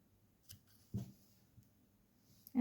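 Scissors snip tatting thread a few times on a needle-tatted five-petal flower, with quiet sparse cuts and soft handling noise between them.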